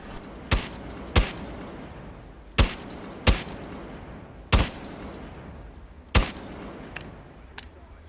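Bearing 9 submachine gun in Rainbow Six Siege fired in single shots, eight sharp cracks spaced unevenly about a second apart, loud and close, with quiet gaps between.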